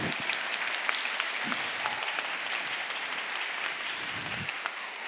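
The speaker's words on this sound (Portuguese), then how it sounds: "isso, salva de palmas." An audience at a panel discussion applauds, dense steady clapping from many hands that holds at an even level for about five seconds, with a few voices faintly underneath.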